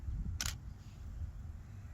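One quick DSLR shutter click sounds near and fairly crisp, then quiet room tone with a low hum.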